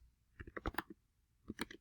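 Soft keystrokes on a computer keyboard come in two short bursts of quick clicks separated by a brief pause, close and fairly quiet.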